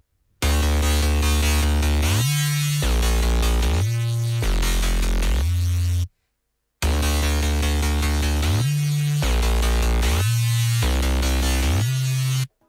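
A synth music drop of sustained chords with a bass line doubling their lowest notes, heavy and loud, plays in two identical blocks with a short silent break between them.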